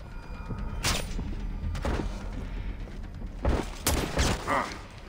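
Gunfire from the stealth-action game Splinter Cell: Blacklist comes as a few sharp, separate bursts about a second apart over a low, steady game soundscape, with later shots clustered closer together.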